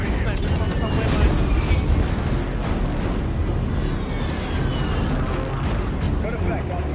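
Air strike explosions rumble through a video game battlefield, a dense continuous roar of booms and blasts filling the whole stretch at high loudness.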